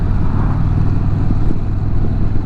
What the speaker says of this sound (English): People heating up their tires on these touring bikes.